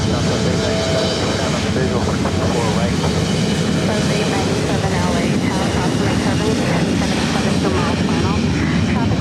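A SkyWest United Express airliner bound for Reno takes off from runway 24 right at LAX, a loud, steady engine roar filling the scene with voices mixed in underneath.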